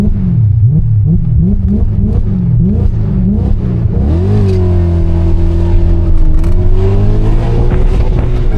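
A Citroën AX with a worn clutch starts on a hill: the engine labours and pulses at low revs, then revs up in a loud, rising whine as the car pulls away, close and continuous.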